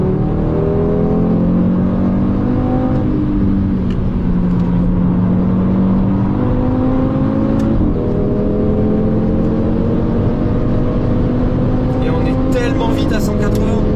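An Audi Sport car engine revs and pulls hard, rising pitch sweeping upward over a steady loud drone, with a few shifts between gears; no talking.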